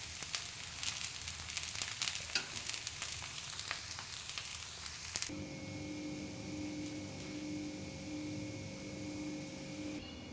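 Roti cooking on a pan, with oil poured into holes in the dough: a crackling sizzle, fairly faint, runs through the first half, then gives way to a steadier, smoother frying hiss with a faint hum.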